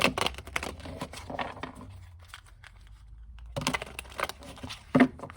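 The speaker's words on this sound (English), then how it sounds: "Okay, so I'm going to shuffle." Tarot cards are shuffled by hand in close, soft bursts of papery riffling and flicking, with a quiet pause in the middle before another flurry of card noise.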